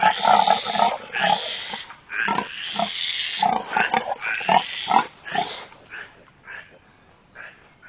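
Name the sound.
pig grunting and squealing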